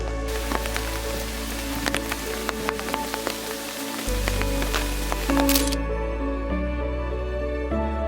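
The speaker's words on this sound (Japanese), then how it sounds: "しかも雨降ってるからね、気をつけないと、ね、足滑りそう" Rain falling on steep stone steps at a historic shrine in Oita, a steady broadband patter with scattered sharper drips, close and continuous, with a low rumble underneath.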